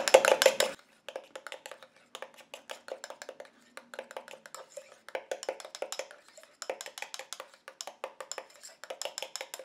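Homemade brown face cream being mixed in a small container after a few fragrance drops go in: quiet, quick rhythmic clicks and taps of a utensil stirring, steady and close.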